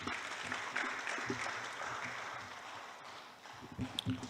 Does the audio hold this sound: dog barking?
no